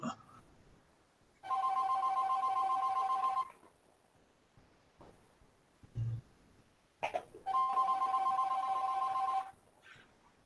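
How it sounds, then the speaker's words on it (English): A telephone rings in two long bursts of electronic ringing, each about two seconds, separated by a quiet pause with a brief cough-like sound, in an otherwise quiet room. "did you guys hear that phone?"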